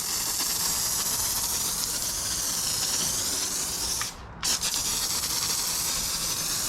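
A Marolex pump sprayer lays down foaming waterless wash in a steady, loud, continuous hiss close by, with a brief dropout near the end before the spray resumes.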